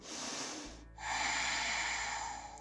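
A deep, steady breath drawn in through the nose during yoga practice, close and breathy, starting softly and then swelling into a long, even airy rush that holds to the end.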